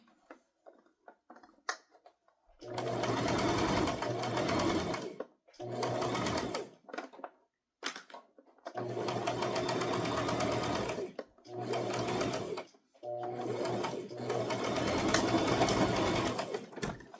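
Close up, a sewing machine stitches a toddler's crossbody purse in several bursts of rapid, loud whirring, broken by brief pauses, with a few faint clicks before the first run.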